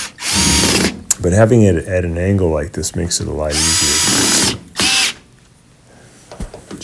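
A power drill drives 1/4-inch screws back into the panel of a front-loading washer in short, loud, high-pitched whirring bursts, with someone talking between and over them.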